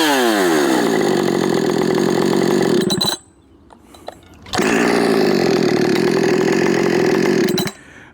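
A ported chainsaw engine, a Husqvarna 562xp mk2 or Efco 6510, screams loud and close at high idle, cuts out for about a second and a half, then restarts and revs hard again before dropping off.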